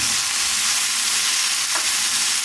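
Ground masala with mashed spice paste, garlic and a splash of lemon juice frying in a pan for stuffed bitter gourd, a steady close, loud sizzle with a faint scrape of stirring partway through.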